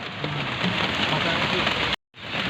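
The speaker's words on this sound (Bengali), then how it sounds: "বৃষ্টিটা পাইছি হঠাৎ করে, যে বৃষ্টি পড়বো কে জানে।" A sudden rain shower patters steadily and close, a dense even hiss that cuts out briefly before resuming.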